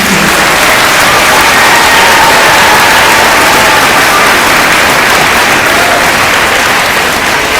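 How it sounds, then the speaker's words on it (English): A school audience at an elementary Veterans Day program claps for the families of veterans, producing a loud, dense, continuous roar of applause that fills the room from start to finish, with no talking on top. "If we can clap for them."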